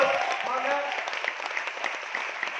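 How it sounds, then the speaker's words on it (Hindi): An audience at a sales-leader testimonial event bursts into clapping; a voice talks briefly at the start, then many hands keep up a busy, even round of applause at moderate loudness. "मैं चाहूंगा एक बार उनके लिए तालियां जरूर बजाएं"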